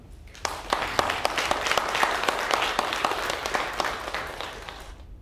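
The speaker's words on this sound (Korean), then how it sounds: "우리 박수로 우리 목사님 모실게요." A church congregation at a tenth-anniversary thanksgiving service applauds to welcome the pastor to the front. Many hands clap in a lively, even rhythm with crisp individual claps standing out, starting abruptly and tapering off at the end.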